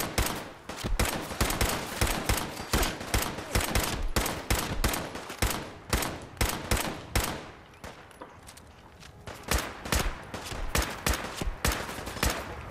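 Gunfire in the video game Fallout 4, sustained rapid bursts of shots in close succession with a brief lull partway through, loud and continuous.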